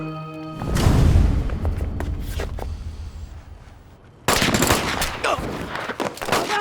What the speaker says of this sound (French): Ici, Waldner. Ouvrez le feu.